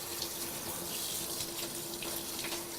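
Tap water runs steadily while a special-needs dog is bathed on a table, a continuous close hiss with faint splashes and a faint tonal hum underneath, no talking.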